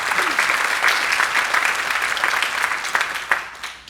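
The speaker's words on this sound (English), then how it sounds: "Please give a big round of applause for Kai." An audience at a jazz camp student performance claps steadily after a piece, a dense, close wash of applause that thins toward the end.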